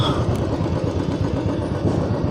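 Steady low engine idle of a vehicle pulling to a stop on a roadside, a continuous near rumble with no talk over it.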